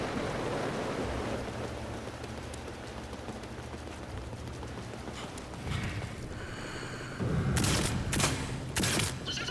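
Explosions and gunfire in the video game Sniper Elite 5: a steady rain-like crackle of distant shots, then loud sharp bursts and blasts near the end.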